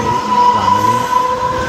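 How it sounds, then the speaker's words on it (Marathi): A moving passenger train bound for Karjat rumbles steadily, with a continuous clattering roar and a thin sustained whine over it, close and loud throughout. "आणि ट्रेन चालू झालेली आहे."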